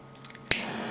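A new lighter is lit for a Partagas Mille Fleurs cigar: a few faint clicks, then one sharp close-up snap of the ignition followed by a soft hiss of flame.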